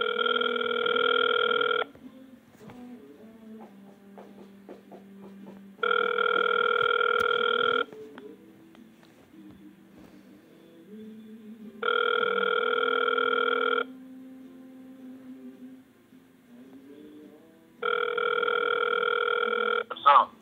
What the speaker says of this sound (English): We dial his phone number. He usually don't answer the first time.